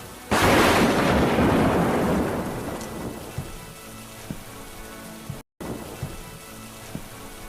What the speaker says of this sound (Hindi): पर बारिश थी कि न रुक रही थी और न उसकी बेचैनी।